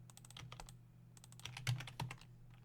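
Computer keys clatter in quick, uneven bursts of typing, close and fairly quiet over a steady low hum, with a couple of harder keystrokes near the end.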